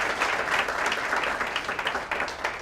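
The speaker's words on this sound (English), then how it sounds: "We can give him a round of applause." A Toastmasters club audience at a milestone meeting gives a round of applause: dense, even clapping from a seated group, moderately distant and fairly quiet, with no talk over it.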